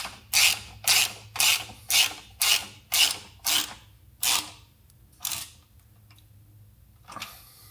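A ratchet wrench snugs down a nut on a Blue Ox base plate being fitted to a 2025 Jeep Grand Cherokee: a steady run of about eight sharp, close clicking bursts that thin out and slow toward the end.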